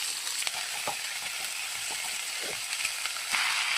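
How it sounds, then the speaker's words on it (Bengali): Onion, ginger and whole garlic cloves fry in hot oil in a pan, giving a steady bright sizzle with small crackles and occasional stirring scrapes, close and continuous without talk. "এবার একে একে পেঁয়াজ আদা সব দিয়ে দিই"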